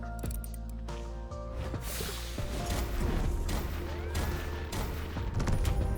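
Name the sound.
bomb explosion in puzzle video game Cal & Bomba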